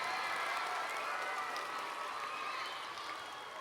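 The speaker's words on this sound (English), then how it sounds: "Give yourselves a round of applause and all that." An audience at a poetic hip hop stage show gives a steady wash of applause and clapping that fades slightly toward the end, with no talk over it.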